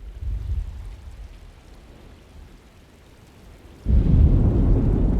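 Stormy weather in the video game Alone in the Dark, with a low rumble that eases off, then a sudden loud burst of heavy rain and thunder noise near the end.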